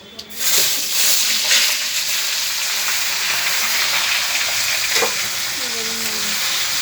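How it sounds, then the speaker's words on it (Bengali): Boiled mango sizzles and fries in a pan of hot oil, a loud, steady crackling hiss throughout with faint stirring. "দিয়ে দিলে এবারে আমটাকে ভেজে নিয়ে নেবে।"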